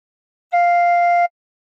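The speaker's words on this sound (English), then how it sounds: "Put fingers 1 to 3 on Hos 1 to 3 and blow a bit harder once." A single sustained tin whistle note played with fingers covering holes 1 to 3 and blown a little harder, steady and clear, lasting under a second alone in silence.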